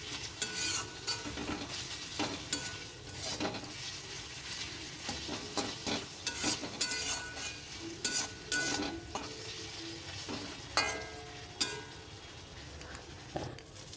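Chowmein being stirred and tossed in a hot pan, with a steady sizzle of frying under repeated scraping strokes of a utensil, close and continuous without any talk.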